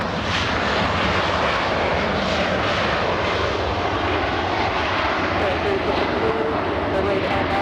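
A fixed-wing airliner's engines roar steadily and close at LAX during a takeoff run on runway 24 left, a loud continuous jet roar, with tower radio talk mixed in.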